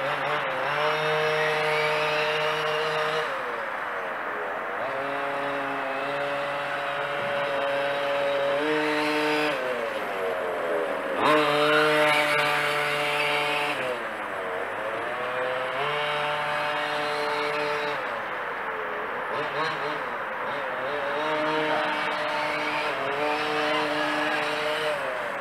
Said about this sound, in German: Nur das Säuseln vom Motor zu hören.